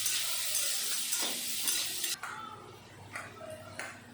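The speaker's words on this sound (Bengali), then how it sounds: "ক্যাপসিকাম একটু সময় নেড়ে দিয়ে দিলাম গ্রিন মটর।" Chopped capsicum and carrot are stir-fried in a pan with a loud, steady sizzle. Sharp spatula scrapes and stirring strokes break through the hiss, and the sound drops quieter partway through.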